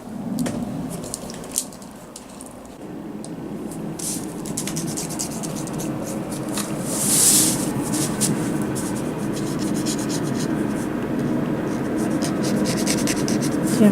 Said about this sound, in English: And I draw with the shish kebab skewer.